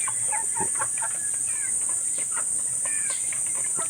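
Clucking and short calls from a large rooster on a farm, repeated irregular bursts fairly close, over a constant high insect-like whine throughout.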